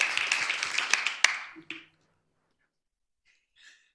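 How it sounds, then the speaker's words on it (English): A symposium audience applauds a speaker, a short round of clapping that rises briefly, ends with a few final sharp claps, then fades to near silence. "I think we ought to give Eric a round of applause so that he can see it on the tape"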